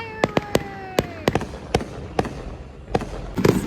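Fireworks bursting at Sea World, a string of sharp separate bangs and crackles at irregular intervals, moderately close, with a faint tonal whistle fading in the background and a denser crackle at the end.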